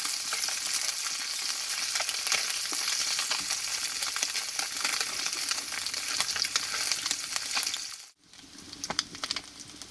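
Small fish fry in hot oil in a wok, making a dense, crackling sizzle that stays close and constant, broken by one sudden short gap before the sizzling resumes, with no talking.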